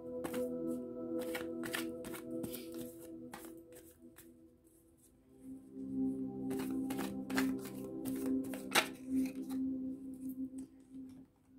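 Small cards are shuffled and dealt out by hand in quick riffling bursts and soft slaps, close and clear, with a short quiet pause midway before the shuffling resumes over a low steady hum.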